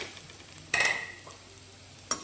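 Bitter gourd curry with salt and chili powder being stirred in a pan, two short scraping bursts of a spoon against the pan over a faint background sizzle, with quiet gaps between them.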